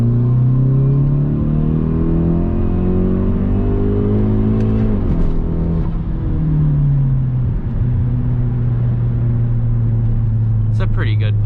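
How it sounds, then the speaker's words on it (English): A 2017 Hyundai Veloster Turbo with an automatic transmission pulls hard at full throttle, its engine drone climbing steadily in pitch, dipping briefly, then rising again, loud from inside the cabin, with a short burst of talk near the end. "Alright, so I'll do a little pull here. I'll just kind of floor it in automatic."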